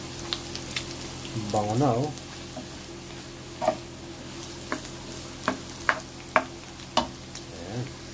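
Garlic and pork sizzle and fry in a pan, a soft steady crackle with scattered sharp pops and utensil scrapes, while a voice speaks briefly over the cooking.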